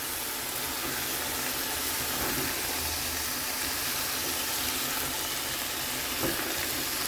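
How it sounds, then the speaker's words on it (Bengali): Winter vegetables sautéing in a pan, a steady close sizzle and hiss with occasional stirring scrapes, continuous and alone without talk. "এটা একটু কষে নিয়ে তারপর আবার ফিরে আসছি"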